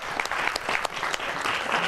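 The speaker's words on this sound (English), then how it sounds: "A round of applause." A room of Rotary club members applauds visiting Rotarian and guest speaker Frank Lohner, with dense, steady hand clapping sustained across the whole moment and no talking.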